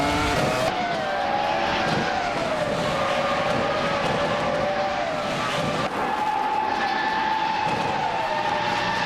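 Several race cars in a racing video game roar past with rising and falling engine whines that overlap and shift pitch, a steady loud drone that runs the whole time.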